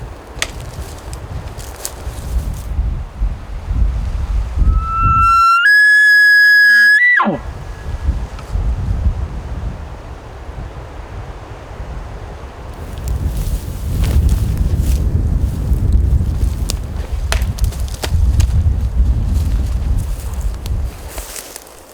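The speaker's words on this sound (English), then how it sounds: "It's really windy, really hard to hear." Strong wind buffets and rumbles across the microphone in low gusts, with a brief high electronic tone partway through.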